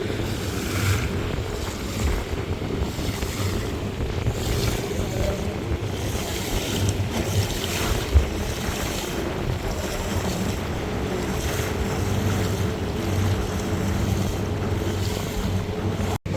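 Loud waterfall water crashes near a boat in a steady, dense roar mixed with heavy wind buffeting the microphone, with a brief thump partway through and a sharp cut at the end.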